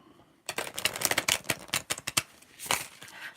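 Tarot cards being shuffled, a quick close run of crisp riffling clicks and flutters lasting about three seconds, quiet and without talk.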